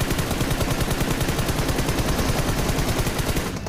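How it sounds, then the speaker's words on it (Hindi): M4 rifle gunfire in a mobile shooter game, a rapid, unbroken automatic burst of loud, evenly spaced shots that cuts off at the end. "सारी की सारी गोलियां मेरी कनेक्ट हुई है M4 से"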